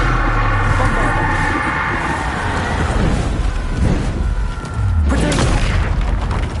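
In the video game Hogwarts Legacy, the Bombarda explosion spell goes off as loud, booming blasts with rumbling low-end roars. A second blast hits near the end and the whole clip stays dense and forceful.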